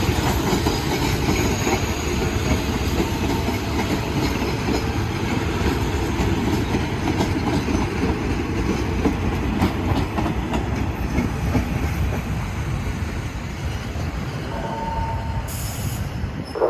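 Local passenger train no. 426, running Ubon to Nakhon Ratchasima, pulls into the platform at Thanon Chira Junction station with a loud, continuous rumble and wheel clatter and a brief high squeal near the end.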